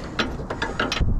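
Spanner ratcheting while snugging up bolts near the steering of a vehicle: a quick run of four or five close clicking pawl strokes in steady rhythm, with no speech.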